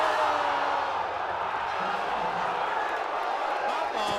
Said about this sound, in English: people yelling Johnny Stock in the crowd.